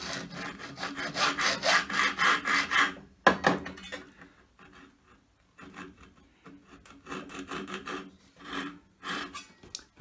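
Hacksaw cutting a replacement upper guide part for a 12-inch bandsaw: close, rasping back-and-forth strokes in quick rhythmic runs, pausing briefly before resuming with slower, lighter strokes.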